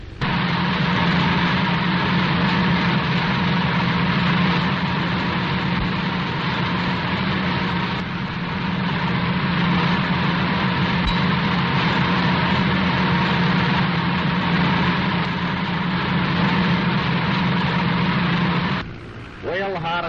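On a naval trial, a motor launch's twin engines run full ahead in a dense, continuous drone that holds steady and loud for the whole stretch before cutting off abruptly near the end.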